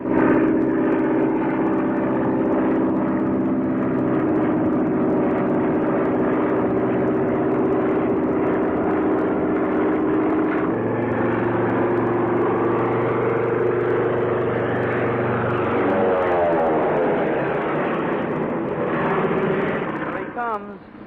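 A vintage propeller airplane from the 1930s flies in, its loud droning engine steady throughout and rising to a pitch sweep near the end, with a voice speaking over the roar.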